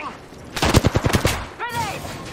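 Enemy automatic gunfire in the Apex Legends video game, a short rapid burst of shots followed by a brief voice line.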